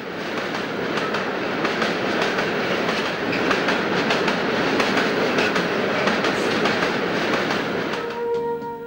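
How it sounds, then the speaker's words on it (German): A V200 diesel locomotive runs through the Elster valley, a steady loud rumble with rhythmic clickety-clack of wheels over rail joints, fading at the end as a faint tone appears. "Eine V200 ist auf dem Laufweg des Carola durchs Elstertal unterwegs"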